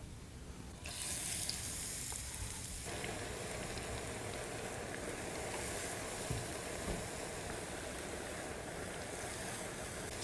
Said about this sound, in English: So pop them in the ghee just like you would normally cook pakoras.